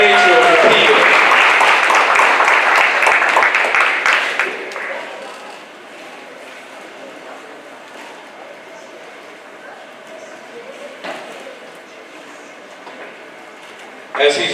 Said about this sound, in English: Yeah, our Man of the Year award, let's give him a round of applause.